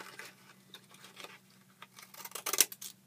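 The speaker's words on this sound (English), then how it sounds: "I'm just going to use these scissors to fancy it up at the top" Scissors snip paper for a gift box in a series of small crisp cuts, sparse at first and then quicker and louder toward the end, close by and quiet.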